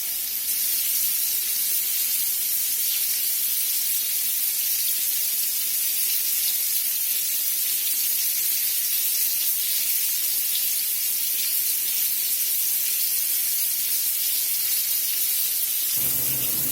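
Pork chops frying in a pan, giving a steady, loud hiss and sizzle that carries on unbroken and close, then cuts off sharply near the end.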